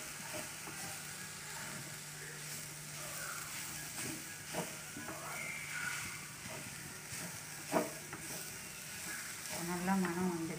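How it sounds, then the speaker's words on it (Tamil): Carrot parpi ingredients roasting in a pan give a soft, steady sizzle and hiss with occasional stirring scrapes, faint and close. "நல்லா மணம் வர வரைக்கும் வறுத்து எடுத்துக்கலாம்."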